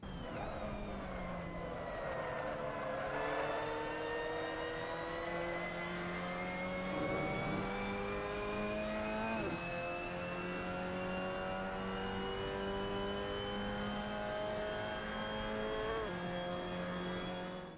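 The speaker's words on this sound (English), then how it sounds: "So that was a lap around Pascani Motorpark with the Mazda MX-5 Cup" A Mazda MX-5 Cup race car lapping Pascani Motorpark in the Assetto Corsa racing game, its engine revving and climbing through the gears continuously with a few shifts, loud and steady with no talk.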